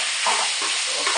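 Chicken pieces for a Chinese chicken curry being tossed and stir-fried in a hot pan make a loud, dense, unbroken sizzle, close and steady with slight surges as the meat is moved.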